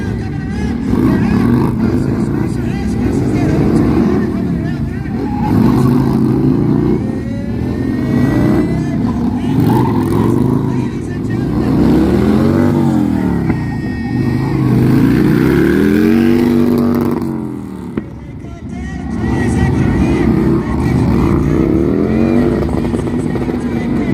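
A Sportster S1 motorcycle revs and launches at a drag race event, loud rising engine sweeps repeating through gear changes, with a short lull before it picks up again and voices talking over it.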